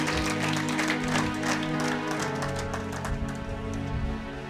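A church congregation applauds together in a sustained wash of clapping, joined by a droning tone underneath, fairly loud and continuous.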